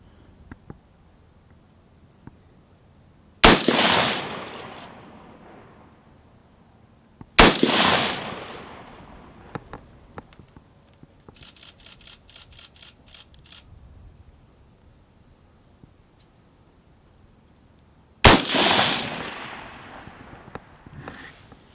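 Rifle shots fired at a distant target outdoors, three sharp loud cracks spaced several seconds apart, each with a short fading echo, over quiet background.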